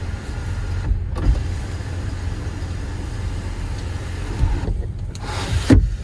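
Kia Sonet sunroof motor running, a steady electric whir inside the car cabin, with brief pauses and soft clicks as it starts and stops.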